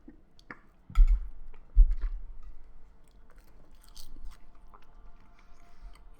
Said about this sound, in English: Can you hear me chewing the seaweed?